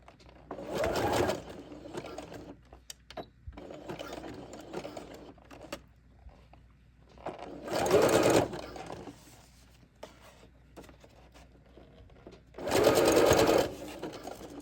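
A sewing machine makes three short bursts of stitching at a leg garter, separated by quieter handling sounds.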